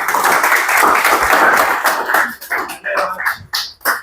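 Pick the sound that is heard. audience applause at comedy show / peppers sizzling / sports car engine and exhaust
audience applause at comedy show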